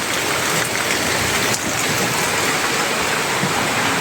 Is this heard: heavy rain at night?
yes